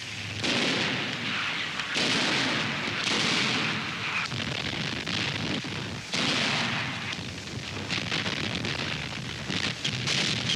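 Rocket launcher batteries fire in an archival WWII newsreel, a dense, continuous roar of launches and blasts that stays loud and unbroken for the whole stretch, with no voice over it.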